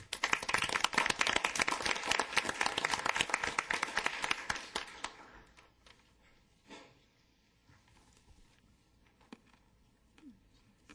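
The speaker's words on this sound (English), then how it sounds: "So again, a round of applause for you." Dense, loud applause from a council meeting audience fills the first five seconds after a person is honored before taking an oath, then thins out and fades to near silence with a few scattered claps and faint room sounds.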